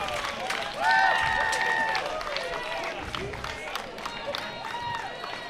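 Crowd cheering and applause at a pro pickleball doubles match, a loud swell of clapping and shouts peaking early, then easing into scattered whistles, cries and claps, with voices talking underneath.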